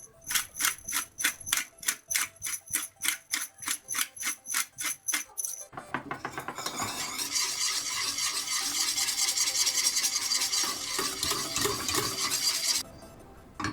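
Nutmeg is rasped against a grater into a simmering béchamel sauce: about twenty quick, evenly spaced scraping strokes, close and crisp, followed by a continuous busy stirring and bubbling texture.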